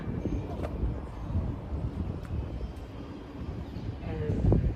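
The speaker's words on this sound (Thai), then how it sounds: "ลมเย็นจังวันนี้แดดไม่ค่อยร้อน" Wind blows steadily outdoors in an old riverside market area, a continuous broadband rumble of gusts buffeting the microphone, with faint voices in the background.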